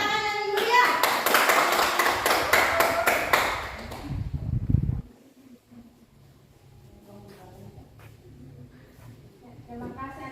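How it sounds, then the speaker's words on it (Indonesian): A classroom group claps for group 2 in a loud, brisk burst of applause lasting a few seconds, then fades to quiet room noise with faint voices. "Satu kali lagi tepuk tangan yang mulia."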